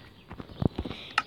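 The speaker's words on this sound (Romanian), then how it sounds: "E și un cal lângă sat." A horse in the Minecraft video game steps near a village, giving a few soft, irregular clip-clop hoof sounds that are quiet and close, with one brighter click near the end.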